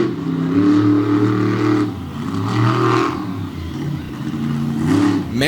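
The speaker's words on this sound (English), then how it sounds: "he's laying down a nice run in the Ramunator Hemi-powered Ram" A Hemi-powered Ram monster truck, the Ramunator, roars through a freestyle run on a mud track, its big engine revving up and down in loud repeated surges close by.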